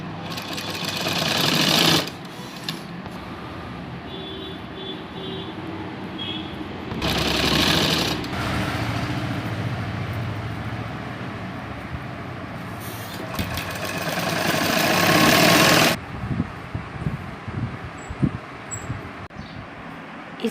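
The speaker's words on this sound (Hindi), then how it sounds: "ये चुन्नट डालने हैं और सिलाई लगाते जाना है।" Sewing machine stitching pleats into petticoat fabric, a fast whirring mechanical run in several bursts of a few seconds each, separated by pauses with quieter handling sounds, close and prominent.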